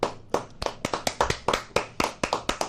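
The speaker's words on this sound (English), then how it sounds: "So with a round of applause" A small studio audience claps in a sparse, uneven patter of individual sharp hand claps, close and fairly quiet, tapering off over a few seconds.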